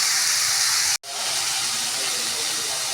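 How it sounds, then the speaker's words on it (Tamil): Chopped onion and tomato sizzle in hot oil in a pan for a thuvaiyal, a loud, steady close-up hiss that drops out for an instant before continuing evenly. "வெங்காயம், தக்காளி போட்டு வதக்க வச்சுட்டேன்."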